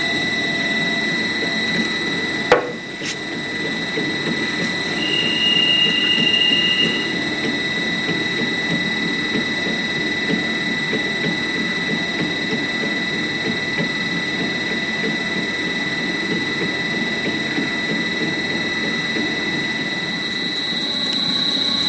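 A stand mixer kneading brioche dough with eggs at first speed: a steady motor drone with a high whine that holds level throughout, after a brief sharp click near the start.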